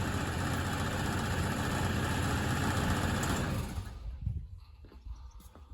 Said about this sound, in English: So it is running rich, but that's normal. It's a cold engine